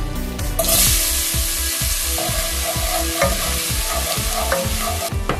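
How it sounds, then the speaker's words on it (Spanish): Chopped onion hits hot oil left over from frying, giving a loud, steady sizzle with rhythmic stirring scrapes repeating about twice per second throughout. "en este mismo aceite así caliente voy a agregarle la cebolla"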